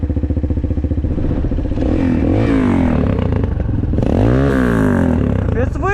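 A Shineray VXR 300 motorcycle engine and exhaust rev and pull while riding, loud and close, with pitch rising and falling through gear changes and a throaty pulsing exhaust note.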